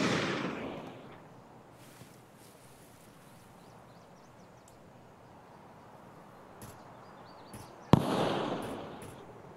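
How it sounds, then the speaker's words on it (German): Gunfire in Escape from Tarkov aimed at Scavs: a loud blast opens the moment, a long quiet stretch follows, then a sharp crack near the end sets off another booming burst. "Ja, er schießt auf die Skeps."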